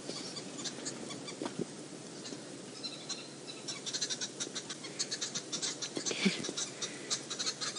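Green wood hoopoes, also called red-billed wood hoopoes, call during an afternoon safari drive with a cluster of rapid, faint chattering notes that grows busier toward the end over low background noise.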